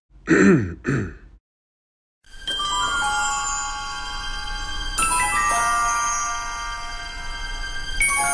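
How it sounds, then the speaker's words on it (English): Two short, gruff throat-clearing sounds up front, then a pause, followed by a long ringing, bell-like electronic tone that shifts pitch. "Let me clear my throat."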